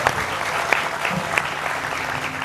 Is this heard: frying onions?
no